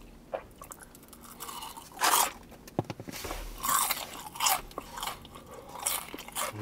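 Crispy Jack in the Box curly fries are bitten and chewed close up, giving several sharp, loud crunches separated by quieter chewing and mouth sounds.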